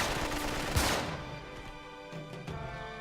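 A burst of gunfire from the Uncharted 3 video game, a loud dense volley up front that thins into a few scattered shots, with no voices over it.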